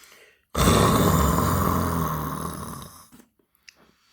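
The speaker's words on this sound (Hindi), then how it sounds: "सोते हुए दहाड़ता है तो उसको उसका नाम खर्राटे रख रखा है" One long, loud, rasping snore rattles close to the microphone for a few seconds, then fades into faint breathy sounds.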